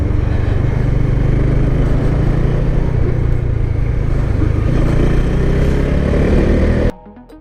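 Honda CB150X motorcycle engine running steadily during a riding maneuver test, a loud continuous close-up drone that holds for about seven seconds before cutting off abruptly.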